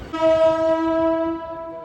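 A train horn blows one loud, sustained, steady blast close by as the train nears Kacheguda station.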